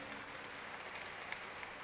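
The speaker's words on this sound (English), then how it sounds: "How about a nice round of applause for all 10 of those talented and very attractive young gentlemen?" Steady audience applause at a Miss Gay America pageant for the top 10 contestants, a dense, uniform wash of clapping heard from some distance, faint and without a break.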